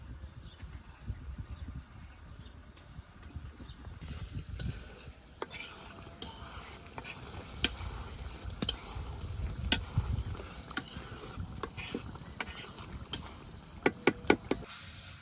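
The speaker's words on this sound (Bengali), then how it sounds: "মশলাটা খুব ভালোভাবে কষে নিচ্ছি" Spice paste fries in oil while being stirred, a low sizzle that swells louder midway, with scattered clicks and scrapes of a utensil against the pot toward the end.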